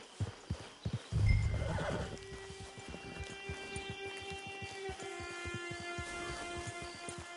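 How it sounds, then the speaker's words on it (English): A horse whinnies loudly at a video game camp, the neigh followed by a steady run of hoofbeat clip-clops that continue throughout, with no speech over them. "Hitch your horse."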